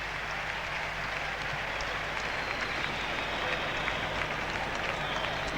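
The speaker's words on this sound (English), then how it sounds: "They're encouraged to give us a typical New Zealand roar" A large stadium crowd at the Commonwealth Games closing ceremony in Auckland's Mt Smart Stadium roars continuously, a dense, loud wash of cheering and clapping that holds steady from start to end.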